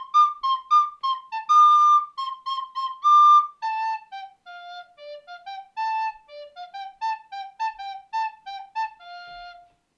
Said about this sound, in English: So, on the recorder it sounds something like this.